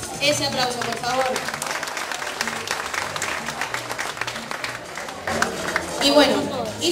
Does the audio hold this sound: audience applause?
yes